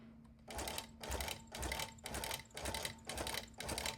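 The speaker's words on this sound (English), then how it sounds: "Now we're going to base down the sides." A longarm quilting machine with a hopper foot bastes down the sides of a quilt, its needle running in rapid mechanical bursts that start and stop in a steady, repeating rhythm about every half second, close and moderately loud.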